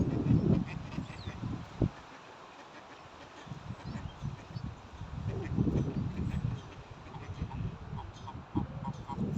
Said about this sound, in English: that's the geese at Waterfoot in the Glens of Antrim.